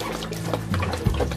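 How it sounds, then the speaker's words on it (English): Water poured over a heat injury victim to cool them, a steady splashing pour running for over a second with a brief louder gush near the end, close and alone. "douse water over the victim"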